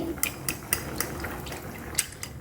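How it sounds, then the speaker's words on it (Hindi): Cornflour is stirred into water in a bowl with a spoon, giving light clinks and taps against the bowl at an uneven rhythm over a soft liquid swish, close and fairly quiet, with no talking. "यहाँ पर एक बाउल में मैंने पानी लिया है, इसमें मैं डाल दूँगी 3 टेबल स्पून कॉर्नफ्लावर। इसको मिक्स कर लेंगे।"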